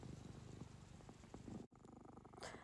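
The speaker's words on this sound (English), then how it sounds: "my cat is purring so loudly through the whole thing" A cat purrs loudly and continuously in a quiet indoor room, a soft close rumble with one brief break, heard alone.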